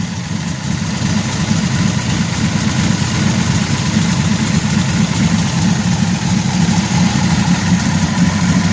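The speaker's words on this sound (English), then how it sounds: "I'm letting it warm up because I'm trying to get the idle adjusted the way I want it." A car engine fitted with a Holley 850 carburetor idles steadily while warming up, a continuous low rumbling drone at even volume for several seconds, close by with no voices.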